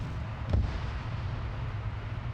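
A single Ork cannon shot booms in a Warhammer 40K video game, one short low thud standing out briefly over a steady rumbling background.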